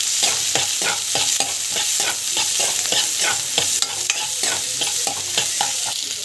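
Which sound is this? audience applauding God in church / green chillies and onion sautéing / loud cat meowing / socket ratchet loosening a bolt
green chillies and onion sautéing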